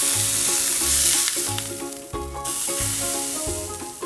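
Thin steak cooked medium well sizzles steadily in a pan, a broad close hiss running the whole time over a repeating low musical tone pattern, with no voices.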